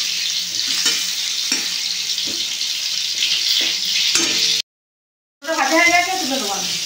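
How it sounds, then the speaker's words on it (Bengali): Spices fry in oil in a pan, a steady close sizzle with regular stirring scrapes, then a brief cut followed by a louder crackle. "হালকা করে ভেজে নেবো ভালো করে।"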